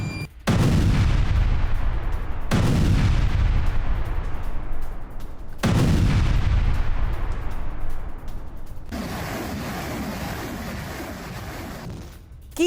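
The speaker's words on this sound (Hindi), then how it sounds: "ये MLRS से पूर्वी यूक्रेन पर किया गया अटैक है।" MLRS rocket artillery bombardment in eastern Ukraine: a series of heavy booming blasts, each followed by a long rumbling decay, with roughly four big bursts across the stretch, loud and distant-sounding.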